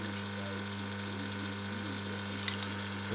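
A water softener fills with water as a pump runs, giving a steady low mechanical hum with trickling, gurgling water and a few faint clicks, close by and fairly quiet.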